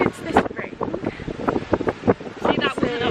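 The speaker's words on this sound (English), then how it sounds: "it's still a bit windy, as you might be able to tell." Wind rumbles against the microphone beneath a person talking, the gusts rising and falling throughout.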